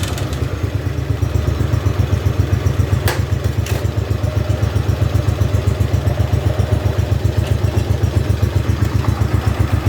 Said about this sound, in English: I think that's battery cover chatter.